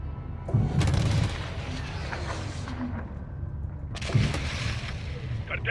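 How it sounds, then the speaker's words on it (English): Rocket-propelled grenade fire and gunfire in the video game Call of Duty: Modern Warfare 2, with bursts of booming shots and rumbling blasts over a continuous low battle din. "Shadow 1, we're taking RPG fire from the east."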